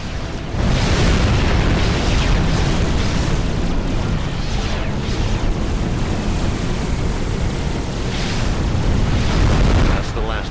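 Artillery positions blown apart in the Supreme Commander strategy game fill the air with loud, continuous rumbling blasts and crackling debris, a dense wall of explosions that barely lets up from start to finish.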